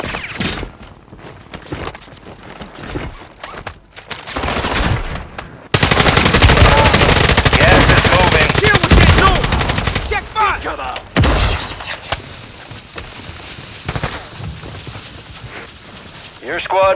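Rapid automatic gunfire from a Modern Warfare 3 multiplayer match, loud sustained bursts with shattering impacts and voices talking over the action.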